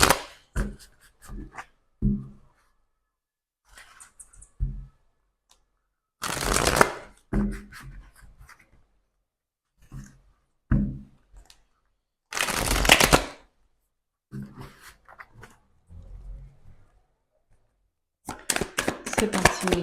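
A Tarot de Marseille deck being shuffled in repeated bursts, crisp riffling and flicking of cards alternating with short pauses, close and fairly loud with no talking.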